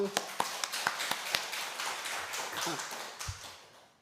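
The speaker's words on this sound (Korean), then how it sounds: "박수." A church congregation at Sunday worship breaks into clapping, sharp hand claps at first, then a looser spread of applause fading out, with voices talking underneath.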